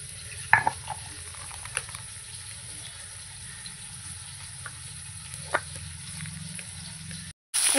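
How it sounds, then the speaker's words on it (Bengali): Pomfret fish fries in hot oil in a home kitchen, giving a steady close sizzle throughout with a few clinks of a spatula or pan, and no talking. "এইভাবে আমি সব মাছগুলো ভেজে নেব।"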